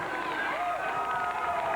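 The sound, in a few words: wrestling house show crowd cheering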